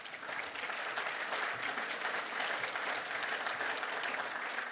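An audience applauds steadily as Gary Johns, former Labor minister, is welcomed to speak against the Voice to Parliament, a dense clapping that swells then holds without talk.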